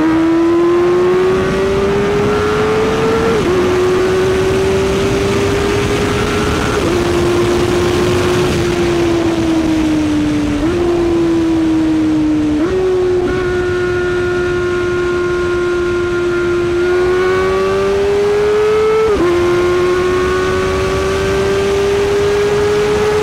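A 400cc motorcycle on a circuit accelerates hard through the gears, its loud engine whine climbing and then dropping sharply at each quick-shifter upshift, repeated several times, heard close and without talking.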